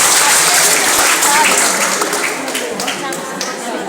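Applause from a university audience of students, dense broadband clapping that stays steady and fairly loud through the clip, easing off slightly toward the end.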